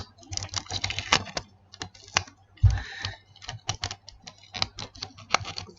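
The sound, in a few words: taping a paper pocket gun with tape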